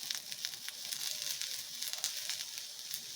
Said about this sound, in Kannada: ಈರುಳ್ಳಿ ಬೆಳ್ಳುಳ್ಳಿ ಕೆಂಪು ಫ್ರೈ ಮಾಡ್ಕೊಳ್ಳೋಣ